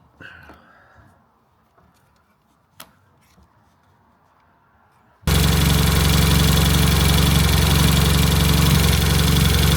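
A Peugeot 106 XSI engine running on only two cylinders starts up after a few quiet seconds and light clicks, then roars loud and rough, continuing harshly for the rest of the clip.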